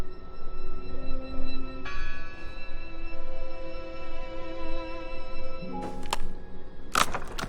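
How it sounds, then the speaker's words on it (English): A bell rings in the game Draugen, its sustained metallic tone swelling in and lingering over a murky ambient drone before a few sharp cracking knocks at the end. "It must be her ringing the bell"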